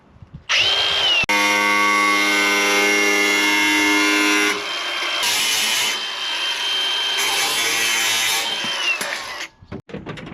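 A power cutting tool slices a steel repair panel for rust repair on a project car, giving a loud continuous whine that rises and shifts in pitch, with a brief stop near the start and an abrupt drop at the end.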